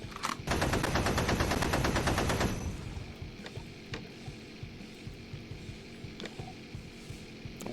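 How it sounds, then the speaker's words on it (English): A heavy machine gun in the Lancer RPG rattles off a dense, rapid burst of about two seconds, followed by scattered fainter shots and a low hum. "And then fire the HMG."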